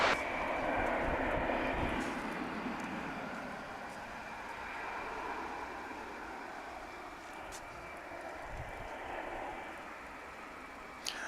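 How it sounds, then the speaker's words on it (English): An American Airlines jet at Dallas/Fort Worth Airport, bound for Amarillo, beginning its takeoff roll on runway 18 left, heard from a distance as a broad, rising engine roar with a faint steady whine, swelling early then holding. "That's the flight to Amarillo you just saw starting to roll"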